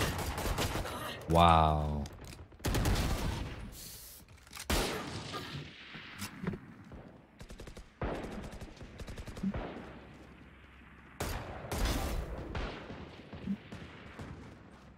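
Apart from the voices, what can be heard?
gunshots in a VR video game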